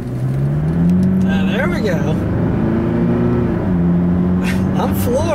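A 2016 GMC Canyon with a Duramax turbo diesel engine accelerates at full throttle, a loud steady drone whose pitch climbs through gear changes, heard from inside the cab while someone talks over it.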